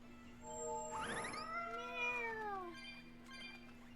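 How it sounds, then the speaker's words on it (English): In the game Tales of Berseria, a cat gives one drawn-out, rising-then-falling meow, clear and close over a faint steady hum, with no talking. "Found a cat."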